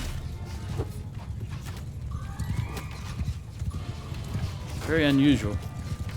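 Cavalry horses in Mount & Blade II Bannerlord: continuous hoofbeats and battle clatter fill the scene, a horse gives a loud whinny near the end, and someone speaks briefly over it.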